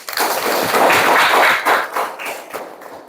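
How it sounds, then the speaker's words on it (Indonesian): Students in a classroom clap their hands together in a loud, close burst that swells and then breaks into scattered, uneven claps as it fades. "Oke, tepuk tangan dulu."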